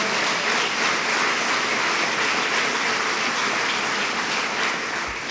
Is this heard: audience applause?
yes